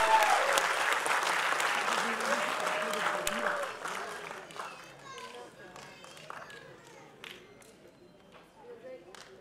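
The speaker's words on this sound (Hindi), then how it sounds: "जोरदार तालियां हो जाती है." Auditorium audience applauding at a live fundraiser concert for Nepal earthquake victims, dense clapping that starts loud and gradually thins into scattered claps with faint chatter.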